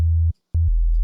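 Serum 2 synth bass built from two sine-wave oscillators, heard as a deep, steady sustained tone that cuts off briefly, returns, then slides to a lower held pitch.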